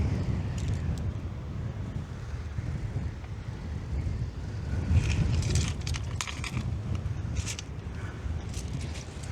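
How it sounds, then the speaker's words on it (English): A gust of wind buffets the microphone on the coast at Winchelsea near Rye, a continuous low roar that swells midway, with faint clicks and rattles on top and no speech. "Sudden gust of wind."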